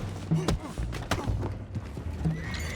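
Horses in the video game Red Dead Redemption 2 whinny and neigh amid hoof clops and thuds, with a few voices murmuring in the background.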